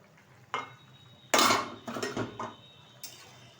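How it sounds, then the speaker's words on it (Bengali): A metal lid is lifted off a pot of simmering rohu fish and potato curry, giving a sharp clatter followed by a few lighter scrapes and knocks, then one final faint clink. "ঢাকনাটা তুলে দিচ্ছি"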